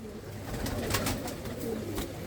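Lal Cheena pigeons cooing steadily nearby, a continuous layered murmur of soft coos with no talk over it.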